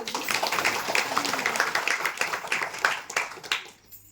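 Women at a Haldi Kumkum gathering clap together in a close, rhythmic burst of hand claps that keeps a loose beat, then thins out and stops near the end, with no talk over it.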